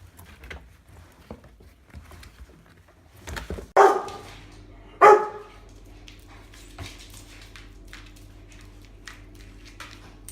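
Two sharp dog barks ring out a second apart, followed by quieter scuffling and pattering sounds in a fairly quiet room.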